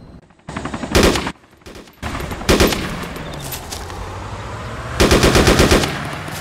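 Bursts of automatic gunfire from a military shooter game, loud and close, in three separate volleys of rapid shots with brief quieter gaps between them and no talking.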